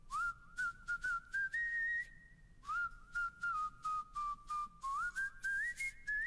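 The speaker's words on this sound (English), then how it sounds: "Chevy, these are the whistles" Close, clear human whistling in a music session, a tune of staccato notes and short held pitches with brief breaths between phrases, over a faint low backing.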